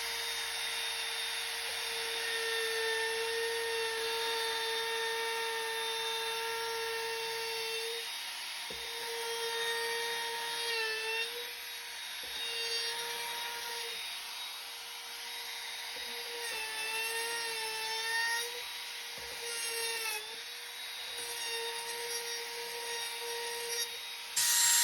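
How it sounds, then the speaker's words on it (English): A Bosch Colt router fitted with a 1/4 inch rounding bit rounds over the top edges of a wooden box, a steady high-pitched whine that dips and shifts as the cut load changes, close and continuous for the whole stretch. "And I'll put a 1/4 inch rounding bit on that. And then we'll just go around the top of it and round those edges."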